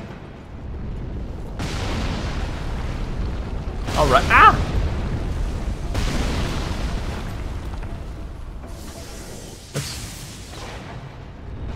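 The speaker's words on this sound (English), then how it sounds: "Where the heck is that cannon thing?" Cannon blasts boom in the Dark Souls 3 video game, a few heavy explosive bursts spread across the stretch beneath steady game noise, with a man's brief exclamation in between.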